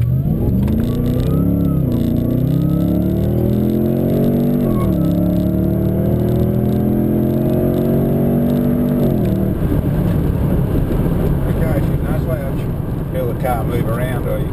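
A supercharged Holden VF Calais accelerates hard in automatic, its engine note climbing steadily through rising gear sweeps, dropping at each shift before roaring on, loud and close, with talk over the top.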